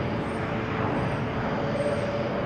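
A Challenger 350 business jet passes at Boston Logan Airport, heard as a steady, broad jet roar that holds level for the whole stretch with a faint high whine riding on top, no voices.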